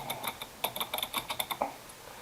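Fingers type on a computer keyboard in a quick, uneven burst of crisp, close key clicks, about a dozen strokes in quick succession with brief pauses.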